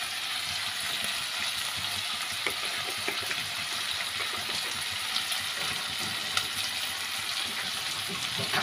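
Black cumin seeds tempering in hot oil for a kachu and shrimp curry, a steady close hiss with scattered small crackles and pops, continuous throughout with no talking.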